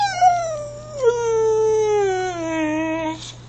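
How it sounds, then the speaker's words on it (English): A dog howls and vocalizes in a long, drawn-out, wavering tone that slides downward, with a brief yip-like break partway through, loud and close with no talking over it. "Are you a talkative doggy?"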